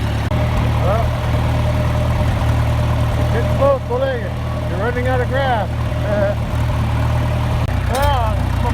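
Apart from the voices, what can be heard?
old John Deere 2020 tractor engine running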